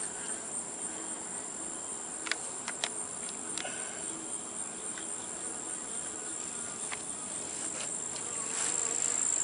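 Faint, steady buzzing of honey bees around a hive and water bucket fills the air, with a few soft clicks and taps scattered through it.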